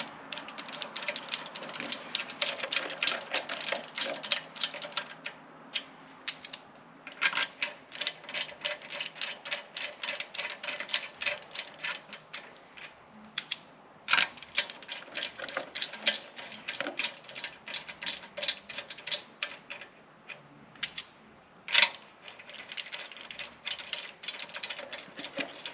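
Lug nuts going onto a Mercedes CL55 AMG wheel make a steady run of quick mechanical clicks and ratcheting taps, close and moderately loud, with brief pauses and one sharper clack near the end.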